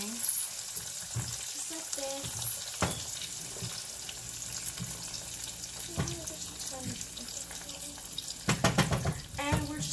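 French fries frying in a skillet on a home stove during breakfast bowl preparation, giving a steady background crackle and hiss with occasional scrapes and clatter from a silicone spatula, with a person speaking over it.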